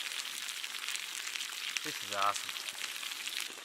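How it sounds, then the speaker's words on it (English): Trout sizzles in a pan over a campfire on a calm evening, a steady crackling fry running throughout while a voice speaks briefly over it. "Nice sizzling pan of trout, fire going"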